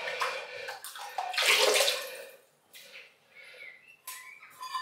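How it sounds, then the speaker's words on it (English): Water runs from a tap to wet a shaving brush in a bathroom sink, a splashing, hissing flow that swells and fades in uneven bursts, close and fairly loud, with no talking. "We've got the brush wet but not dripping."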